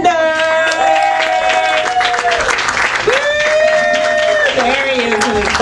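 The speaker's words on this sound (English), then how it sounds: "Clap your hands for Vance Sanders!" Live comedy club audience applauding and cheering a comedian, a dense continuous wash of claps with a voice talking loudly over it through a microphone.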